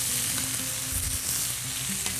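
Spinach cooking in a pan with clarified butter, a steady close sizzle and crackle with faint stirring, no voices.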